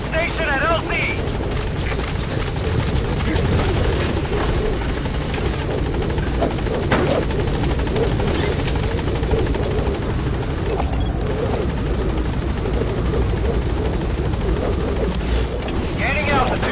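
Pequod helicopter in Metal Gear Solid V, a loud continuous rotor thump and engine roar throughout, with a radio voice speaking over it.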